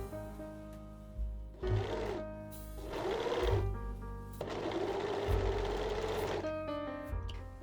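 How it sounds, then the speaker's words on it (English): A domestic sewing machine runs the seams of boxer shorts. It stitches in three bursts that grow longer each time, and each burst is a fast, steady mechanical whir, close and clear, with short pauses and handling clicks between them. "I will sew the seams with 1 cm seam allowance."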